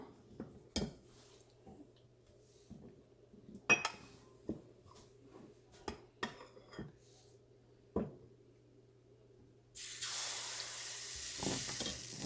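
Milk appam batter hits a hot appam pan at about ten seconds, setting off a loud, steady sizzle. Before that, sparse clicks and clanks of utensils sound over a low hum.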